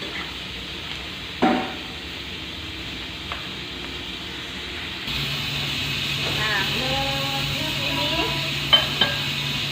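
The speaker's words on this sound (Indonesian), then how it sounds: "Nah, di sini kita juga kita mulai menggoreng bawangnya ya." Onions for a topping fry in a pan, giving a soft, steady sizzle that grows louder partway through, with clinks of a utensil against the pan and a person talking over it.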